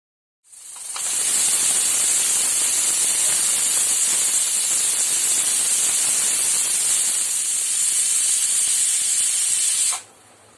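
A pressure cooker boiling mango seeds in salted water lets out a loud, continuous steam hiss that starts abruptly, holds steady for about nine seconds and then stops.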